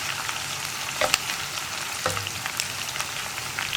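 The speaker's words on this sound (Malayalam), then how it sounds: "ഇനി ഇതൊന്ന് ഇളക്കി ഈ ഇഞ്ചിയും വെളുത്തുള്ളിയും ഒന്ന് കുക്കായി വരട്ടെ" Chopped ginger and garlic fry in hot oil over a high flame on a small burner for a mixed vegetable pickle. A close, constant sizzle is broken by a couple of sharp stirring clacks, with no talking.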